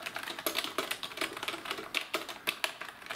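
Typing on the cheap generic plastic keyboard bundled with most PCs gives rapid, uneven keystroke clicks with a plasticky, hollow, non-solid character, close and moderately quiet, with no voices.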